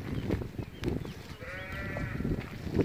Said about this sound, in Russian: Козы, овцы. Все подряд.